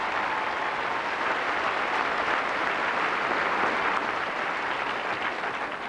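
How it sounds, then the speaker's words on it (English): A studio audience at a 1992 Christmas television fashion show in Boston, Lincolnshire, claps in steady, sustained applause for about six seconds. "ladies and gentlemen, a big round of applause"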